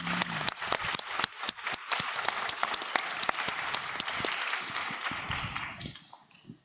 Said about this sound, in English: We will now give a big round of applause to all our speakers of the panel.